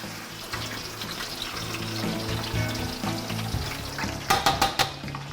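Turkey breasts of about 3.5 pounds each dropped with tongs into hot oil for deep frying: a steady bubbling sizzle builds, then a few sharp splashing crackles near the end.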